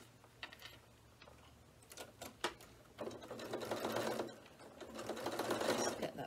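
A sewing machine with a zipper foot top stitching along a bag seam, running in short bursts at first and then in longer steady runs, quiet and close with faint background hum.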